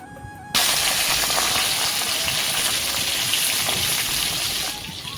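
Soybean chunks and fish cooking side by side in two kadai pans give off a loud, steady sizzling hiss that runs close and continuous, with no talking.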